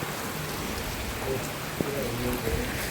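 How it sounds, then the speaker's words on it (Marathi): Steady rain pours down in a dense, even hiss, with faint voices and a few small knocks underneath. "मस्त पाऊस आता वाढलाय थोडासा"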